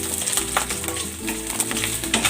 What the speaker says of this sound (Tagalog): maglalagay ako ng cooking oil. Prito ko ng bahagya itong pork.